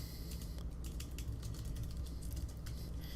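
Computer keyboard typing while data is entered into a spreadsheet form, a steady run of light, quick key clicks at moderate level over a low background hum, with no talking.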